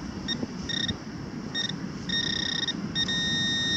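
An XP Deus metal detector gives a series of repeated short electronic beeps while swept over a target on a beach, clear and close over a constant background rush.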